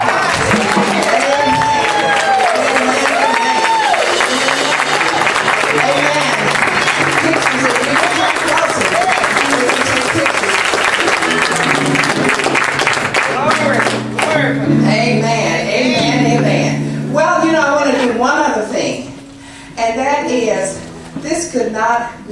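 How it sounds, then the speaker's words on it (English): Church congregation applauding children's awards, with clapping and cheering mixed with voices and tonal music-like sounds, dense for about fourteen seconds before thinning into scattered claps and talk. "let's give all of them a round of applause"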